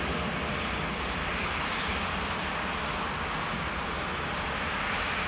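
A KLM Boeing 737-700 departing Amsterdam Schiphol fills the air with a steady, broad jet engine roar, constant and fairly distant with no pauses.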